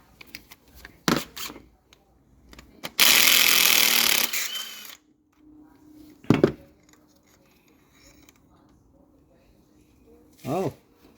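A 5/8 deep spark plug socket and wrench work on a 2010 Town & Country, with short ratcheting and metallic scrapes, a burst of rough rattling in the middle, scattered clunks, and a brief voice near the end.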